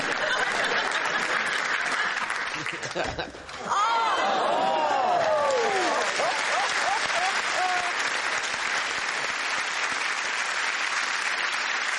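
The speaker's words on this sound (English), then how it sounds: "No, you're clapping!" A studio audience claps loudly at a comedy panel show, then the applause swells again into a long steady burst with scattered laughter and voices.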